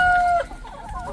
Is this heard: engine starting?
no